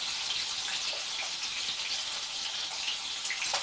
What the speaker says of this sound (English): If you hear stuff frying, guys, I'm making bacon in the background